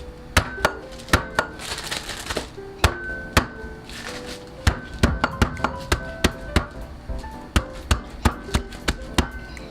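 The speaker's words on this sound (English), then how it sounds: "I'm going to use a regular old sauce pot to smash it" A sauce pot smashes star anise and ginger on a hard surface, making a series of sharp, close knocks at an uneven, quickening pace with faint clinks between them.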